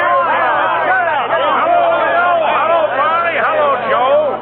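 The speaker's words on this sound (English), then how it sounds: "he's greeted by a loud cheer from his henchmen" A crowd of henchmen raises a loud cheer and hubbub of voices greeting their boss at a train in a radio drama, steady and close for several seconds.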